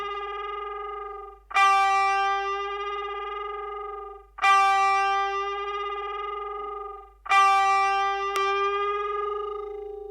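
Electric guitar played through an original Tube Screamer overdrive pedal: three sustained, harmonically rich overdriven notes, each struck sharply and left ringing for a few seconds before the next, loud and close with no talking.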